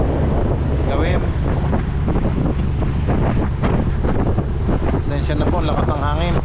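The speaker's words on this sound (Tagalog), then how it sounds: "Pasensya na po, lakas ang hangin." Strong wind buffets the microphone aboard a small boat at sea, a loud steady roar with water and hull noise beneath and faint voices now and then.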